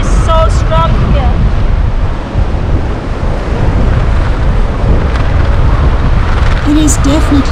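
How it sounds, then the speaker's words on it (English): Strong wind buffets the microphone at the Storms River suspension bridge in South Africa, a loud continuous roar with surf and rushing river water beneath, and a few brief faint voices at the start and end. "Wow, this wind is so strong here."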